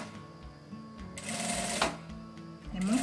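A sewing machine stitching bias tape onto a fabric toiletry kit runs in a steady, close whirring stream with a brief rising whine near the end. Light speech may blend in faintly.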